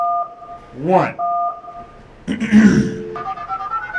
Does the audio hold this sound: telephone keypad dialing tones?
yes